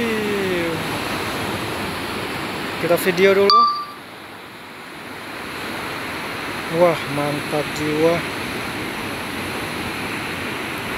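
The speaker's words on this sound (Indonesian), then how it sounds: "Deburan ombak." Ocean surf rolls onto a quiet beach as a constant broad wash of breaking waves. Someone speaks briefly over it, and the surge swells and eases throughout.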